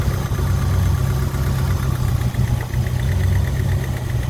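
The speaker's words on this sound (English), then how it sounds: "Cold start." A 1964 Ford F100 pickup with a 351 Windsor V8, Hedman headers and a Holley 650 double-pumper carburetor idles steadily after a cold start, a loud continuous low rumble with no talk.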